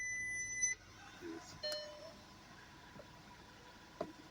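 A 2015 Volkswagen Tiguan's electronic warning beep sounds briefly and faintly at the start, followed by quiet clicks and low background noise.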